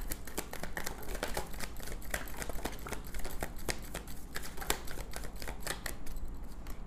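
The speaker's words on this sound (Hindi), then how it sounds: "एक ही शफल करती हूँ मैं गाइस" Tarot cards are shuffled by hand, making a steady run of quick, crisp flicking and slapping clicks close by, with no talking over them.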